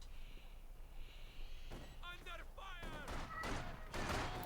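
Scattered rifle fire from a skirmish in Company of Heroes 2 crackles faintly in the distance while someone commentates over it. The shots are soft irregular pops that stay mostly under his steady talking.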